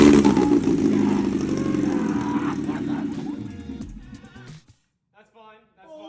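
A DF Goblin kit car engine on its first start, running loudly with a rough, buzzing idle that winds down and stops, followed by a person speaking over the quiet.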